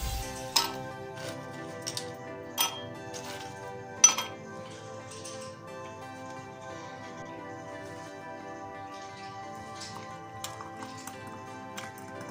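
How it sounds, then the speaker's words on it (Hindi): Ice cubes dropped into a glass for a mango milkshake give three sharp, separate clinks over steady, soft background music. "पहले हम डालेंगे बर्फ"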